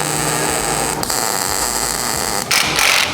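A ball joint bracket on a WRX kit being tack welded: a steady electric hiss and hum runs throughout, broken by a short crackling burst near the start and a longer, brighter sizzle at the end.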